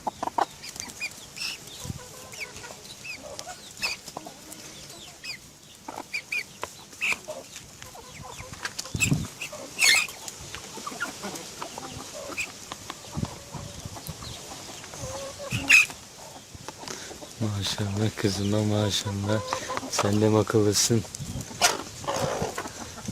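Chickens cluck intermittently close by, mixed with scattered clatter and a louder stretch of calls near the end, while someone talks gently throughout.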